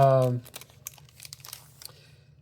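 Foil wrapper of a Pokémon trading card booster pack crinkling and tearing open at close range, a string of short crackly rips after a brief burst of voice at the start.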